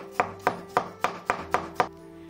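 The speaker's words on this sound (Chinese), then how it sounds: "把沥干表面水分的淀粉切成薄片" A knife cuts firm set sweet potato starch into thin slices on a board, making six evenly spaced crisp chops close by.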